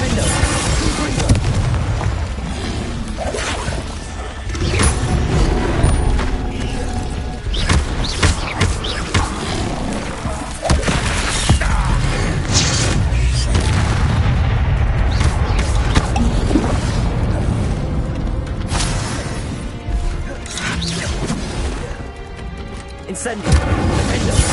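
Confringo spell blasts in Hogwarts Legacy, repeated loud booming explosions and crashing impacts layered over continuous dense game noise throughout.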